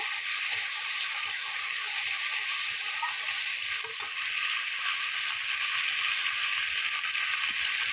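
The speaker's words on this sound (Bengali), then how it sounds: "দিয়ে ভালো করে মশলাটা কষিয়ে নেব।" Spice paste with tomato, ginger paste and green chillies sautéing in a pan, a steady loud sizzle of frying with occasional stirring scrapes, no voices.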